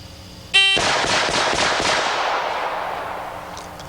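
Factory cartridges are fired in a quick string of shots at a shooting range, a sharp crack followed by several rapid reports that ring out and decay, loud and close, with no talk.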